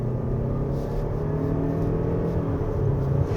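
Engine drone from a 2024 Lexus RX450h+ hybrid accelerating in manual shift mode on a winding road, a steady, fairly quiet hum with a low rumble heard from inside the cabin.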